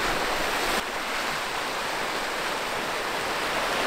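Ocean waves near Bimmah Sinkhole in Oman, a continuous broad hissing wash of surf, steady and fairly loud with a brief drop early on, without any talk.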